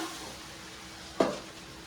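Gujarati tempering (vaghar) for dhokla sizzles as it is poured in, a brief hissing burst over a low, steady background.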